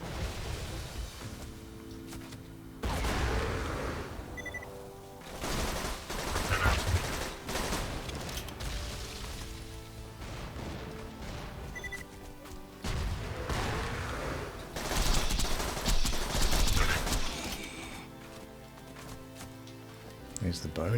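Automated turrets and gunfire rattle through a Borderlands firefight, with dense bursts of shooting and loud impacts. There is a lull around three seconds and a heavier burst near fifteen seconds, and game music plays underneath.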